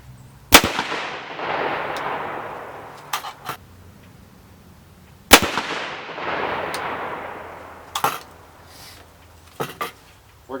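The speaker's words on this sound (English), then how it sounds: "2 more shots here with the S&B" Two sharp, loud rifle shots from a 300 Blackout firing S&B 124 grain factory ammunition, each followed by a long rolling echo, with a few clicks and handling sounds between them.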